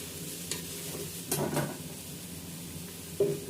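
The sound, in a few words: frying and stirring ingredients for soya veg pulao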